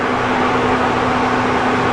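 Constant loud whirring drone with a steady low hum underneath, a drying fan running close by without change inside a columbarium.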